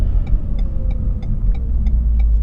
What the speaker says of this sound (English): The exhaust pop and bang.